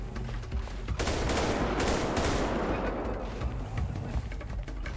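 Rapid bursts of automatic gunfire from a shootout in the video game GTA 5 roleplay, dense overlapping volleys that swell loud around the middle and trail into scattered shots, with faint game ambience beneath.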